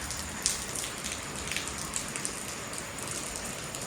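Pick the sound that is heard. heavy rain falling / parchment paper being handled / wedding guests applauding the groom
heavy rain falling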